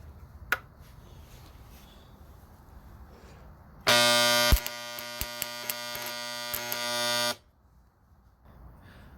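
A newly built welder switched on gives a loud, steady electrical buzz lasting about three and a half seconds with a few sharp crackles, then cuts off, leaving quiet background hiss.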